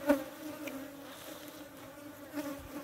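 Wasps buzz around a beehive during a hive check, a steady faint droning hum with a few closer buzzing passes, no voices heard.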